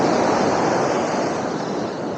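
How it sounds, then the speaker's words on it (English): Strong ocean waves at Desaru beach in Johor roar in a continuous, loud broadband wash of surf, with wind rushing across the microphone and no voices. "the waves are quite strong"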